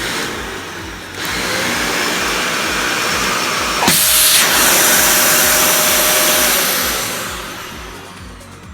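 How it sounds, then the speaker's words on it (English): A Dyson heavy-duty upright vacuum cleaner starts with a loud broadband roar and runs steadily and close at full power for several seconds before easing off slightly at the end, with no voices. "So this is a Dyson heavy duty vacuum."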